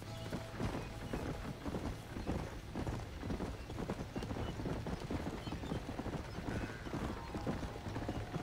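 A horse gallops during a race in the Red Dead Redemption video game, its hooves pounding in a rapid continuous clatter at steady volume throughout, with faint background game sounds.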